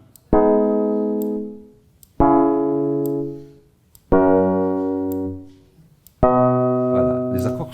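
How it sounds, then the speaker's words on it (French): Four sustained four-voice chords from Tonnetz music software sound one after another, each struck cleanly and then left to ring and slowly fade. Each has a rich harmonic tone, and a light clicking rustle enters during the last chord. "Ce sont des accords à 4 voix"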